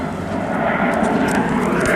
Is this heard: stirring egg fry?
no